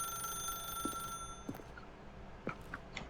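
Ringing telephone in The Stanley Parable video game, a bright electronic alarm-like ring repeating in short bursts at moderate volume over a faint steady tone, with no voices.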